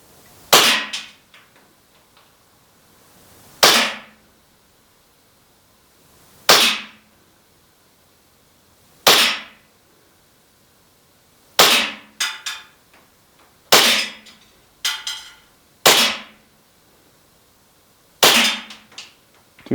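Umarex Glock 17 Gen 4 gas blowback airsoft pistol fired in the field, giving sharp snappy cracks spaced a few seconds apart, with several quicker doubles near the end, each followed by a brief rattling slide and ring.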